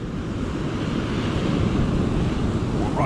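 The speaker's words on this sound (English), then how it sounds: "Wind." Steady wind roars at a shoreline over crashing surf, a constant loud broadband rush with gusting buffeting against the microphone throughout, no voices.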